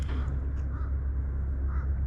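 A crow caws a couple of times at a distance outdoors, faint over a steady low rumble of background noise.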